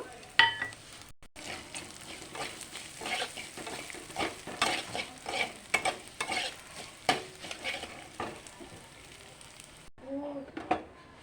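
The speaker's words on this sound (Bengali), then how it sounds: "এখন মুগ ডাল দিয়ে দেবো মুগ ডালু ভালো করে ভেজে নেব" Mung dal stir-frying in oil in a pan, a soft crackling sizzle broken by repeated scraping and knocking strokes of a spatula at an irregular pace, fairly quiet and close, with a short silent gap.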